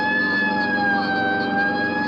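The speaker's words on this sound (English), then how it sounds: "Right, I'll hit the siren." A police car siren wails in a 1949 radio crime drama, loud and steady with a sustained rising and falling tone over an engine's rumble, with no voices.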